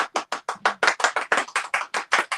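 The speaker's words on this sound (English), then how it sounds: "I really hope they start clapping for you" Steady, evenly spaced hand claps from a live studio audience, about a dozen crisp strikes in quick succession, close and fairly loud with no talk over them.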